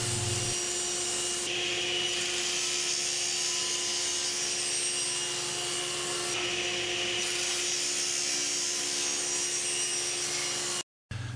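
Thick wood scraps, 1.5 inches deep, are cut into 1.5-inch square strips for end grain cutting boards. A continuous, steady rasping cutting noise runs throughout, close and even, with a brief cutoff near the end.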